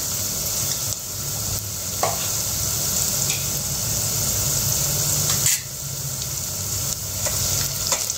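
Sliced onion fries and sizzles steadily in a hot pan for a Marathi home-style panvada bhaji, with a few scrape-and-stir knocks of a spoon at intervals, close and continuous with no talking.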